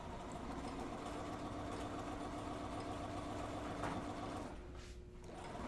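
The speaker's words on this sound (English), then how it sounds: "So you just sew right onto the next one." A sewing machine stitching a fabric seam runs steadily and continuously with a faint mechanical whir, easing off near the end, with no talking.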